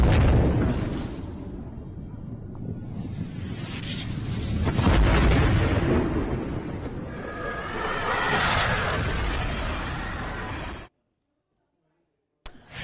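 US and British airstrikes on Houthi targets in Yemen, around Hodeidah and Sanaa, produce loud, rolling explosions: deep booms and rumbling swells one after another, before sudden silence near the end.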